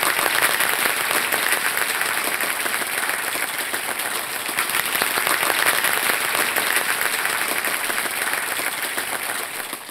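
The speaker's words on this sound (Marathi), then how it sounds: "टाळ्या." An audience claps for a 12-year-old girl at a Mangalagaur event, a dense and even wash of applause that holds at full strength for the whole stretch and eases only at the very end.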